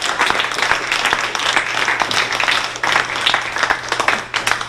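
An audience at a Bloomsday reading event applauds steadily for its readers and presenter, a dense, continuous wash of many hands clapping with a low hum running beneath.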